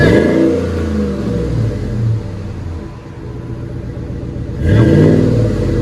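Deep, throaty Ram 1500 5.7L Hemi V8 with its muffler removed revving close by, rising and falling before a strong final surge, with a loud rumbling exhaust.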